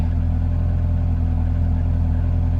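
A Peugeot car engine runs steadily at idle, a loud, close, even rumble with no voices.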